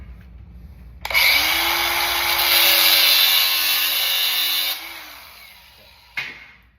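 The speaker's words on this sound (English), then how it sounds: "I'll just grind this off real quick." An angle grinder cuts off the end of a twisted metal rod with a loud, bright, close shriek lasting several seconds, then the motor winds down and a short second burst follows.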